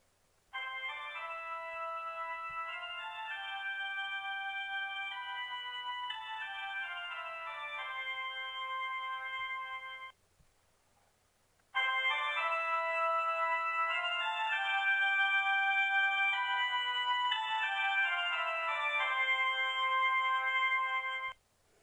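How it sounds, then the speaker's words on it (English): Church organ playing a melody, sustained reedy tones moving through a tune in a steady, continuous stream, with a short pause midway before the music resumes, clear and alone with no talking. "this was the sound of an organ"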